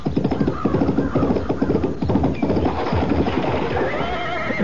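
A horse whinnies loudly and close while rapid hooves pound along in a steady galloping rhythm, part of a radio drama.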